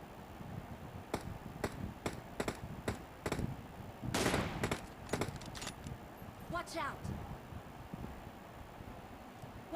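Gunfire in PUBG on the Erangel map: a string of sharp single rifle shots cracking out at irregular intervals, with a louder burst in the middle, over faint background talk.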